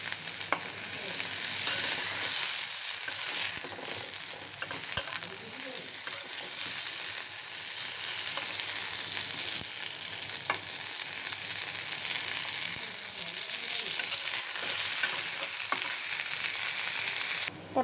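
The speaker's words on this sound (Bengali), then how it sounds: "পটলটা আমি এখন একটু উল্টিয়ে দিচ্ছি।" Pointed gourd fries in a pan, a steady hissing sizzle throughout with occasional soft scrapes and clicks as pieces are turned over.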